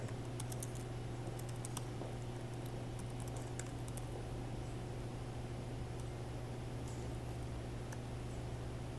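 Code being typed on a computer keyboard: quiet clusters of light key clicks over a steady hum, with bursts early and midway and pauses between them, with no voices.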